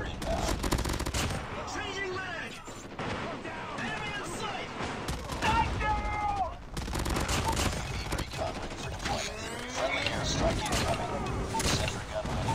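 A deployed sentry gun in Call of Duty Mobile, on the 10v10 Shipment map, fires dense rapid bursts of automatic gunfire mixed with other weapons in a chaotic firefight, with players talking over it.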